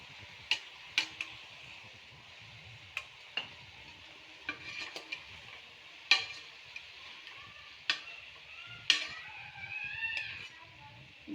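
Chili powder, coriander powder, salt and tomato fry in a pan with drumsticks for sambar. A soft, steady sizzle runs underneath, broken by scattered sharp clinks and scrapes of a spoon stirring against the metal.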